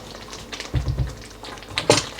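A spoon stirs thick chicken korma in a pot, producing a few soft, muffled knocks and scrapes close by in a short uneven burst, then a brief clatter.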